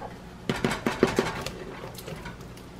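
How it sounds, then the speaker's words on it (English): Jumbo shrimp tipped into a pan of pasta, five quick metallic clinks and clatters in a row followed by softer shuffling, close and moderately loud with no talk. "let's go ahead and add our shrimp."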